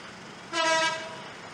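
A freight train horn sounds briefly at a distance, one short harmonic blast over a steady rumbling background, near a manually closed level crossing.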